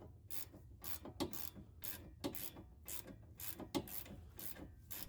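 A hand ratchet cranks a 19mm socket on the nut of a car's front sway bar end link, giving steady repeated clicking strokes about every half second, close and fairly loud with no talking.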